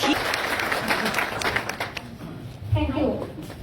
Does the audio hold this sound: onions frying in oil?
no